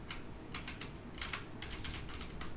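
Computer keyboard keys clack in a quick, irregular burst of typing taps, close and fairly clear, while working in Unreal Engine 5.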